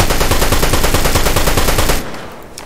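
An SMG fires in rapid, continuous automatic bursts in Fortnite, loud and dense for about two seconds before cutting off abruptly.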